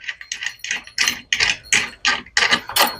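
A ratchet tightens a bolt on the leg of a model railroad Free-mo module, producing about ten close, crisp bursts of rapid clicking in an even back-and-forth rhythm.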